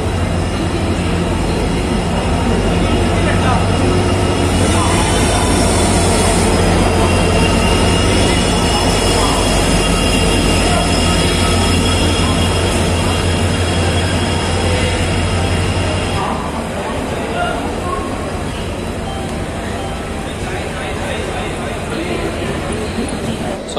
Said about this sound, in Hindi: कुछ ही समय में अपनी भी ट्रेन आने वाली है, मिलते हैं अभी ट्रेन के अराइवल पर।